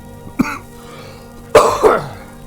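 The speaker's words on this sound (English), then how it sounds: "I still do have a cough." A person coughs close to the microphone: one short cough, then a longer, harsher cough after a pause, with no talking.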